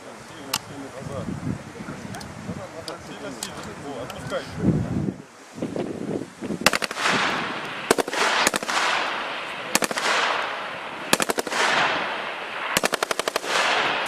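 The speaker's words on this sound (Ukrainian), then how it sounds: "старшокласникам продемонстрували постріли з автомату Калашнікова" Bursts of Kalashnikov assault rifle fire crack out at an outdoor military shooting range during a school field exercise, with repeated rapid volleys and wind noise between them.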